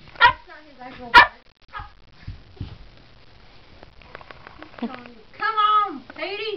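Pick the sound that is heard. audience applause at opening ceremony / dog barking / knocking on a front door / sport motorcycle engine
dog barking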